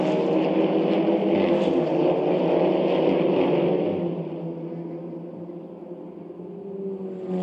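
SEAT Leon race cars in a one-make touring car race at the Nürburgring roar past at high revs, a loud harmonic engine howl that fades and drops in pitch as the pack moves away.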